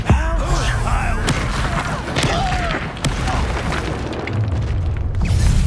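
Confringo spell blasts in Hogwarts Legacy, loud booming explosions layered over dense, continuous game combat noise and whooshing effects.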